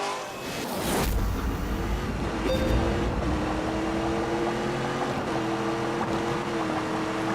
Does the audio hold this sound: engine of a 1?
yes